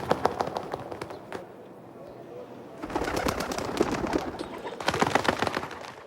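Pigeon or dove wings flap loudly and close in bursts, with cooing and rustling as birds take off, rendered as a sound effect, the flapping thickening in two strong stretches.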